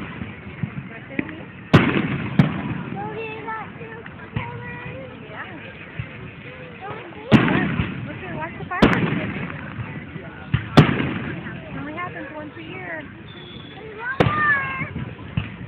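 Several sharp bangs of Fourth of July fireworks in Santa Maria, California, go off at irregular intervals, some distant, while people chat and exclaim between the pops.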